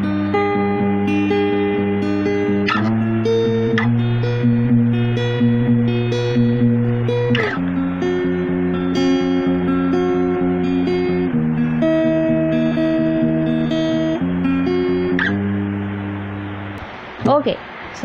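Acoustic guitar playing the intro of a song in a tutorial setting, sustained chords and picked notes changing every few seconds, close and clear, alone until a brief handling noise at the end.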